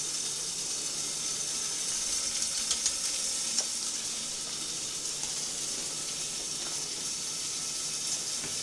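Water boiling in a pot with celery salt and other ingredients for roasted rice, giving a steady, even bubbling hiss with a few faint clinks, close by and without talk.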